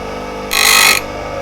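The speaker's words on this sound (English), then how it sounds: "I use the corner of this grinding wheel here as a sort of knife" A grinding wheel hums steadily while the keel of a V tool is pressed against its corner for a brief half-second burst of bright, hissing grinding, then the wheel keeps humming alone, close with no talking.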